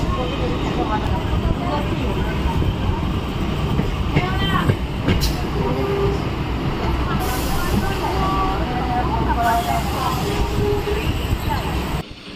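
Inside a moving passenger train on an evening run, a steady rumbling roar of the carriage fills the whole clip, with faint clattering and muffled background voices mixed in.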